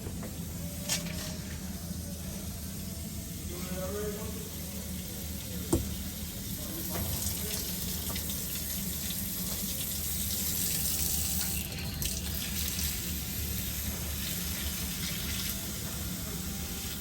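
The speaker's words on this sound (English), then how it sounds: "It's not going to be any hot water because they didn't have it on, but I'll turn it on." A faucet runs into the sink of a Nexus Wraith 34W Super C motorhome, a steady faint hiss of water with a few small clicks and knocks, fairly quiet throughout.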